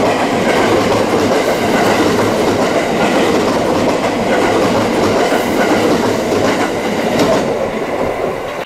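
A Japanese 105 series train rumbles into a station platform close and loud, with rhythmic clacking of wheels over rail joints and a steady roar that eases slightly near the end.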